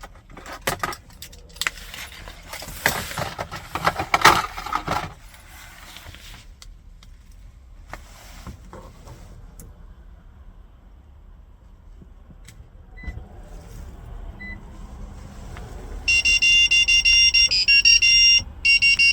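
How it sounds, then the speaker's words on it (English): Keys jangle at first, then after a quiet stretch a rapid, continuous electronic beeping sounds loud and close for several seconds as a 2012-2017 Toyota Prius V key fob is programmed. "wait for a few seconds until you hear the beeping sound indicating programming is successful"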